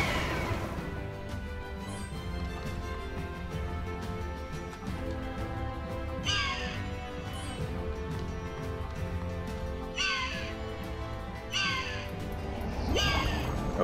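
A bird caws in the video game Child of Light, several harsh bursts at uneven intervals over a dense layer of game music and effects.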